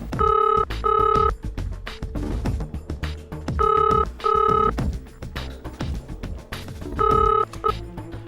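A telephone rings in repeated double bursts, three rings spaced a few seconds apart, over a busy background of other sounds.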